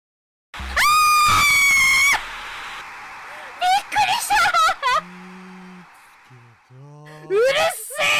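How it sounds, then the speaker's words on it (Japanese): A streamer playing a horror game lets out a long, piercing scream of fright, followed by shorter yelps and bursts of excited talking. "純然たる悲鳴を上げたわ。"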